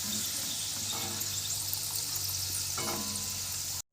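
Lentils deep fry in hot oil over a medium flame for chanachur, giving a steady, dense bubbling hiss that runs unbroken and close before cutting off abruptly at the end.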